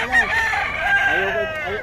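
A rooster crows loud and close at a poultry market, one drawn-out call with other chickens clucking around it amid a busy background.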